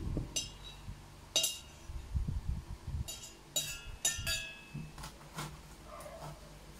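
A spoon scoops cocoa into a glass, making a scattered series of sharp clinks and taps against the glass at uneven intervals, with soft handling noise between them and no talk.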